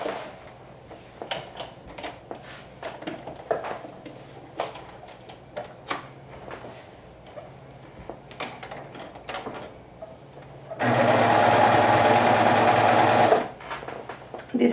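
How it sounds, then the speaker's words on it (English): A sewing machine top stitches down the back of an overalls bib in one steady, loud run of about two and a half seconds, preceded by quiet handling and fabric rustling. "I'm top stitching down from just on the back portion"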